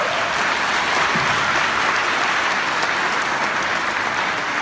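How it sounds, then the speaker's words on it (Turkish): Applause from a studio audience on a Turkish television show, a dense, steady wash of clapping that stays loud and even from start to finish with no speech over it. "alkış yapalım lütfen"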